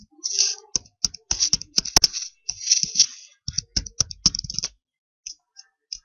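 Quick, irregular clicks of fingers typing on a computer keyboard, close and crisp, coming in short bursts with pauses before a few last taps.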